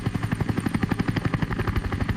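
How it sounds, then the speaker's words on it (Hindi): A police helicopter in a cartoon searches over a jungle, its rotor chopping in a fast, steady, loud rhythm close by, with no voices over it. "पुलिस के हेलीकॉप्टर किस दिन काम आएंगे? हेलीकॉप्टर से जंगल की छानबीन शुरू कर दो।"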